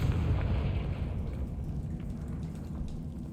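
Confringo spell explosion in the video game Hogwarts Legacy, a loud low rumbling burst that fades into a crackling, rain-like debris wash and keeps rumbling to the end, with no voice over it.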